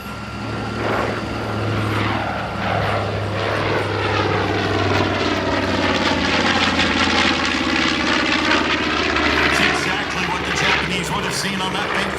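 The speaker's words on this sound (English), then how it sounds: "from the right, here is the B-25 Panchito" A B-25 bomber warbird roars past at an Orlando air show, its twin radial propeller engines building to a loud, steady drone with a sweeping Doppler shift as it crosses close overhead.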